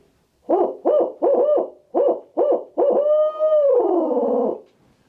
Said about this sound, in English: you can take this call, it's still an owl hooter, blow into it just like you would a regular owl hooter